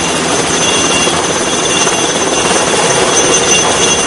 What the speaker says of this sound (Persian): این در حالی است که هلیکوپتر فقط 5 متر بالای سر آنهاست.